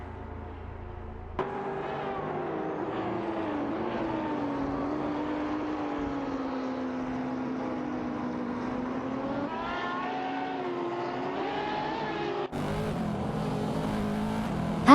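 Race cars roar through an AI racing video game contest, a steady, continuous engine drone with shifting pitch as cars accelerate and pass, loud and unbroken with no talk.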